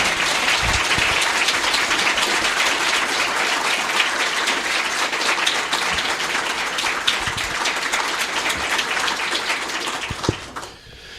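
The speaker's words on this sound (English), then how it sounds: "Let's have another round of applause." A conference audience gives a sustained round of applause after an evening of keynotes, dense and even clapping that holds steady before fading out at the end.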